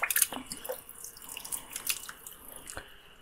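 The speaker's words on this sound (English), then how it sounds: "turn on the cold water" Cold water running from a tap through a home-brewing wort chiller, a light trickling and dripping flow, close and fairly quiet, with no voices.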